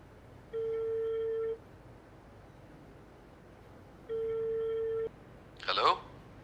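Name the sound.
telephone ringing unanswered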